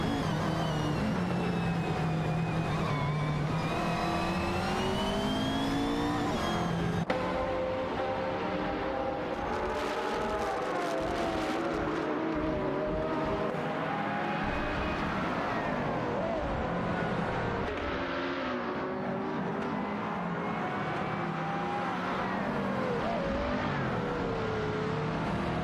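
A race car in a simulated AI racing event, its engine whining and shifting pitch as it pulls away, with a continuous revving drone that rises and falls through gear changes for the whole stretch.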